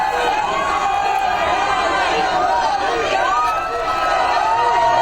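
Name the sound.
noisy crowd at Ranip polling booth, Ahmedabad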